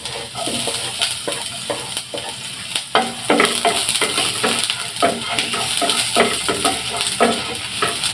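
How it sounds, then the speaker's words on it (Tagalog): Garlic going into hot oil in a home kitchen for ampalaya with egg, sizzling steadily with frequent close scraping and stirring clatter of a utensil against the pan, no talk. "Lagyan na natin ng oil. Lagay na po natin ang bawang."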